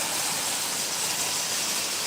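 An MTH 10-wheeler O-gauge model train runs on the outer loop of a layout with plastic cars; a steady, close hiss and rumble continue evenly throughout.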